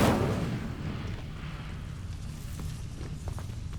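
Fiery whoosh of an Incendio spell cast in Hogwarts Legacy, a loud burst at the start that fades into a sustained rumbling crackle.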